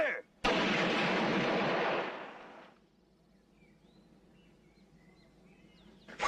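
Rifles go off in a single loud, sharp volley in a film scene, ringing out for about a second and a half before fading into quiet outdoor ambience with faint birdsong.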